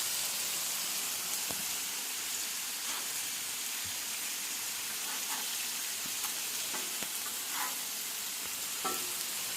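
Smash burger patties of half wild pork and half deer meat sizzle steadily on a hot grill, a dense continuous frying hiss broken by a few faint spatula ticks, close up and with no voices.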